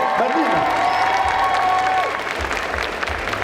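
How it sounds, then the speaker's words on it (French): Loud, continuous applause from a convention audience at a cosplay contest prize ceremony, greeting the winner; dense steady clapping with some crowd noise, lasting throughout. "On applaudit très fort."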